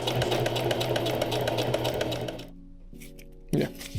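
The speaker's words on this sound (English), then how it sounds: "All right, we're ready to start sewing." A sewing machine stitches a custom folding bag with a fast, steady mechanical whir for about two and a half seconds, then stops, leaving brief quiet clicks and a short restart burst near the end.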